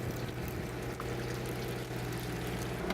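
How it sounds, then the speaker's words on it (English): A hose steadily pours fresh seawater into a lobster barrel aboard a boat, giving a constant splashing rush over a low engine hum, with a faint clunk near the end. "We have a hose constantly pouring fresh oxygenated seawater into the barrel."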